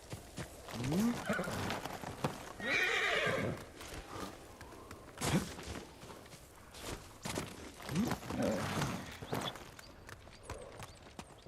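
A horse in a video game neighs with a few whinnies and clip-clopping hooves, moderately loud, mixed with a player talking over game sounds.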